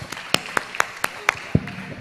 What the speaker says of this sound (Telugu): మనందరూ చప్పట్లు కొడదామండి, గట్టిగా చప్పట్లు కొడదామండి